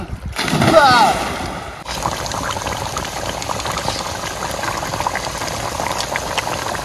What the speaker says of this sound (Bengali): বন্ধুরা মাংস কিন্তু পুরো ফুটে গেছে